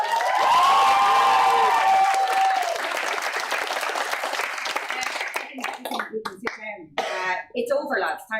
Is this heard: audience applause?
yes